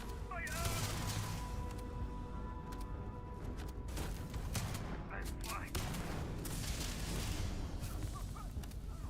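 Shotgun blasts and other gunfire in the game Starfield: several sharp, loud bursts spaced through a noisy combat scene, with a person talking over the action.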